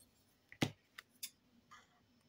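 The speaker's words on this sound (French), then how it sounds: "je prends les ciseaux," Scissors cut a sheet of paper while an album is being made. One sharp, close snip stands out, followed by a few lighter clicks and a faint rustle in a quiet room.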